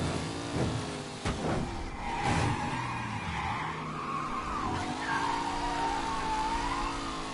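Car tires skidding and squealing in the video game Mafia III, a long wailing screech sliding up and down in pitch over a rumbling engine, with sharp transient bursts at the start and around five seconds.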